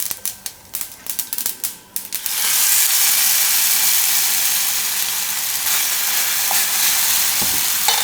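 Handvo batter made with pava (flattened rice) hits a hot pan after a few scattered clicks and taps, then bursts into a loud, steady, close sizzle that hisses on continuously.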